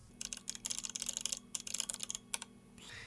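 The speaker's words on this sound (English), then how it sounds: "I'm going to type in bb.show hidden objects" Cheat command typed on a computer keyboard for The Sims 4, a quick, uneven run of close, crisp key clicks in short bursts with brief pauses, fairly quiet and without talk.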